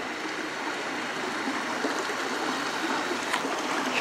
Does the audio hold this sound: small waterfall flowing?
yes